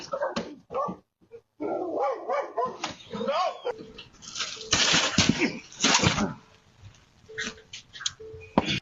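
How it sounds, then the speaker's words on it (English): Dogs chasing drivers, barking repeatedly in loud, close bursts, with yips and chirping birds in the background and some human voices mixed in. "Dogs chasing drivers."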